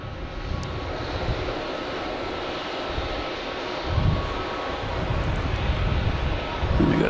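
American Airlines airliner inbound from Miami on approach to Logan Airport at night, a steady broad engine roar that swells slightly as it nears.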